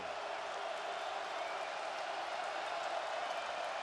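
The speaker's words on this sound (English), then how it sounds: "Crowd comes to life" A football stadium crowd at an NDSU versus UC Davis game roars in a steady, broad wash of cheering and applause, heard from a distance and holding at an even level throughout.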